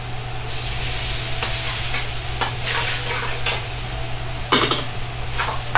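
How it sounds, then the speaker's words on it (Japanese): Onions and canned tomatoes stir-fry in a pan for butter chicken curry, a steady close sizzle broken by spatula scrapes and a few sharper clanks against the pan, with no one speaking. "このくらいまで炒めたらトマト缶を入れ炒めていきます"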